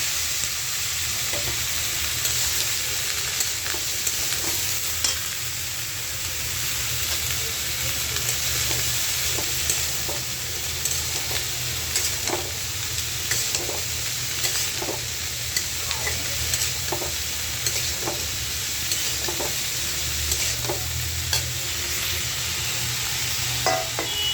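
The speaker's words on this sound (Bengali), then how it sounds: "আমি এখন ফুলকপি ভাজিটা করে নেব" Cauliflower with salt and turmeric fries in a pan, giving a steady, hissing sizzle throughout while a spatula scrapes and clicks against the pan at regular intervals.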